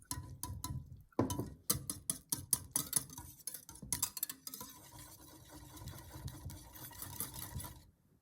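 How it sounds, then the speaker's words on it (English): Fresh cream being mixed into a matcha sweet mixture in a bowl: a quick run of light clicking, tapping utensil strokes, steady at first and then softer, with no voices. "Finally, add fresh cream. Mix everything together."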